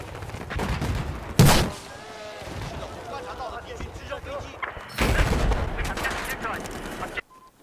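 SRAW rocket launcher in Battlefield 4 firing at a hovering UAV on the test range: a sharp loud launch blast followed by rumbling game combat noise and a second burst of firing, with a voice talking throughout.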